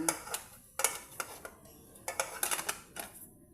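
Metal lid clattering back onto a cooking pot of simmering fish soup, a handful of sharp clinks and taps in quick succession, close and fairly quiet.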